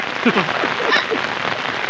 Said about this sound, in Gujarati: એ વરસાદ બહુ પડે છે યાર